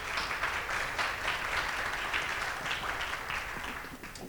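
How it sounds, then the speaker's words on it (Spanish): An audience at a conference session applauds a speaker being introduced, a sustained wash of many hands clapping at moderate distance that tapers off slightly at the end. "Un aplauso, por favor"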